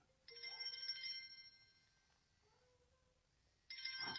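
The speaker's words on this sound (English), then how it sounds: "Phone's ringing right now, but I'm not answering it." A phone ringtone plays in a bright electronic tone, stops for a couple of seconds of quiet, then starts ringing again near the end.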